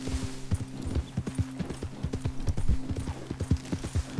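Steady horse hooves clip-clop at a trotting rhythm in Red Dead Redemption 2, fairly quiet, with a faint creak of tack in the background.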